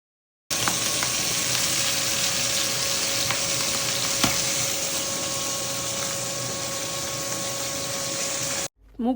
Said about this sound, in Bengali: দিয়ে দিলাম শুকনো মরিচ, তেজপাতা, জিরা আর মাছের মাথাটা। এটি দিয়ে আগে একটু ভাজা কইরা নেই